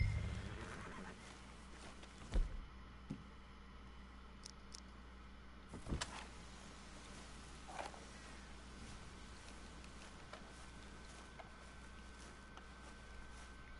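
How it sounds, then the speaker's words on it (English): A horse in Red Dead Redemption 2 gives a few short neighs and snorts, with faint hoof sounds against quiet outdoor game ambience. "let's hitch the horse here"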